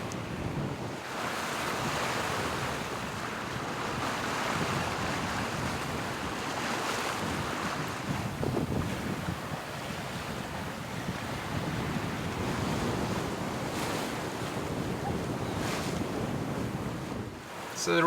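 A sailboat runs on a broad reach in 18 to 20 knots of wind, with waves rushing and splashing against the hull and wind roaring across the microphone, a continuous loud wash without speech.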